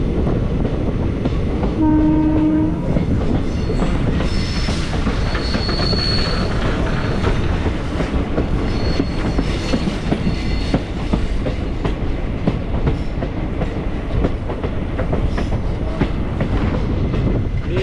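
A loud, continuous rumble of a train climbing a winding mountain railway between Guruvayur and Tenkasi, with rhythmic clatter, a brief horn blast and faint wheel squeals.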